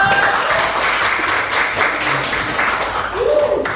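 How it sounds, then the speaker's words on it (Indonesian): Classroom of students applauding together, a dense sustained patter of hand claps at close range for several seconds. "Oke, tepuk tangan dulu."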